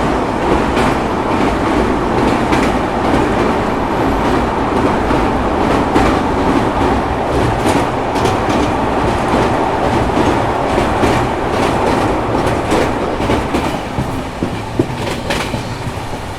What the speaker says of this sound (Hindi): जब सामने दिखेगी train number 13308 Ganga Sutlej express Firozpur cantt junction Dhanbad junction के बीच चलती है।